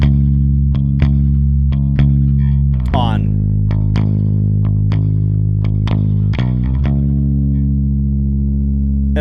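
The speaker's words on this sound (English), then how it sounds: "Never would I have ever thought that using distortion on this bass would have actually cleaned it up." Bass notes in a music mix pass through a multiband distortion effect, producing a sequence of plucked, gritty, sustained tones with a strong low fundamental and crunchy harmonics, loud and alone.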